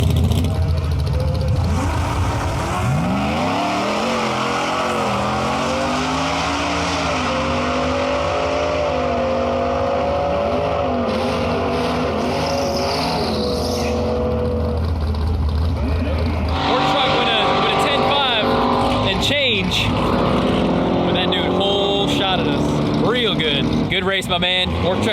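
A Ford F150 work truck with 4WD and a roughly 870 whp setup runs a drag race, its engine revving and roaring loudly and steadily, with the tone shifting partway through and voices speaking over it.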